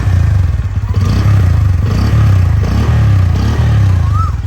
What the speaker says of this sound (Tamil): த்ரோட்டில் பண்ணி காட்டுறேன், எப்படி இருக்குன்னு பாருங்கள்